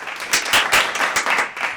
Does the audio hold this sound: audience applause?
yes